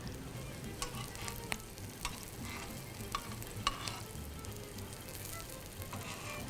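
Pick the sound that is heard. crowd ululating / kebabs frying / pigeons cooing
kebabs frying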